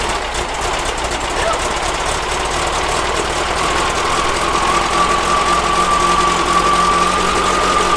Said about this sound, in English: This engine hasn't started in probably a week and a half, and it started right up